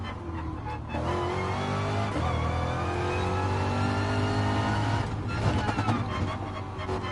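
Race car engine at the Nürburgring in Gran Turismo Sport, played in VR with a racing wheel, droning loud and steady with rising and falling revs as it runs a fast section of the track.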